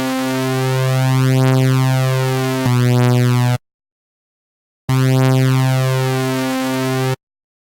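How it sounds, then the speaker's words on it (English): Two slightly detuned, phase-offset oscillators in the Serum synth, heard as two long buzzy notes whose tone sweeps and swirls with phasing, separated by a short gap of silence. "we're getting some nice phasing and interplay happening between those two different oscillators"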